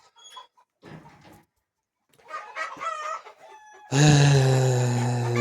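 A nearby chicken gives a few short scattered clucks, then breaks into a loud, sustained squawking call that runs to the end.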